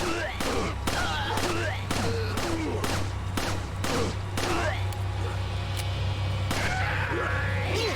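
Gunfire in Resident Evil 4 Wii Edition, a steady series of sharp shots at roughly even intervals over a constant low hum, with fainter game sounds between them.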